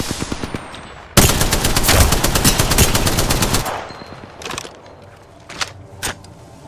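Rapid automatic gunfire erupts in the video game Apex Legends: a loud, sustained burst of machine-gun shots, followed by a few scattered single shots and sharp impacts that gradually thin out.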